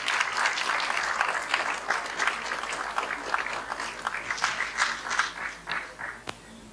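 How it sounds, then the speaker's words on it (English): Applause from a conference audience at the closing session of a cybersecurity event, a steady wash of many hands clapping that swells slightly before tapering off. "Big round of applause for all of you"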